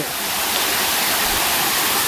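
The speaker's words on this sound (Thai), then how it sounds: "น้ำไหลลงมา" Steady, loud rush of water pouring down a tiered waterfall, a dense broadband roar that fills the whole stretch without pause or voices.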